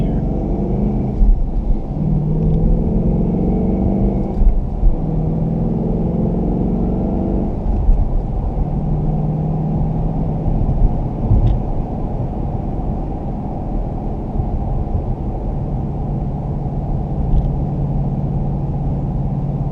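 A 2017 Ford Mustang GT Performance Pack driving on the road, its engine a steady low rumble under constant road and tire noise, with faint cabin sounds and brief speech-like tones.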